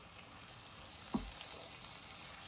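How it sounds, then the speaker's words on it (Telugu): Onions, chillies and spice powders fry in a pan, a faint continuous sizzle with a single soft scrape of stirring in the middle. "వాటిని ఒకసారి తిప్పేసుకుందాం."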